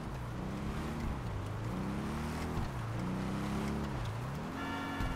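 A motorbike from the Halloween DLC in Grand Theft Auto V runs with a steady droning engine throughout, its pitch rising and falling as the rider revs and shifts, loud and close with no talk.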